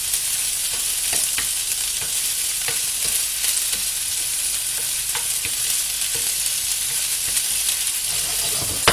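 Tuna and onion stirred in a frying pan, a steady broadband sizzle with scattered scraping clicks of a utensil against the pan, continuous and close, no voices.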